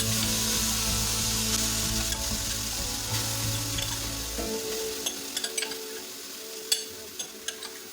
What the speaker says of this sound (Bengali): সাগু ভালোভাবে ভাজা করে নেব।